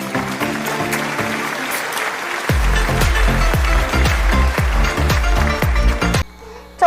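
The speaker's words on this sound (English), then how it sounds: "Let's give them a round of applause." Loud audience applause fills a graduation ceremony, a dense wash of clapping that runs steadily for several seconds and cuts off near the end.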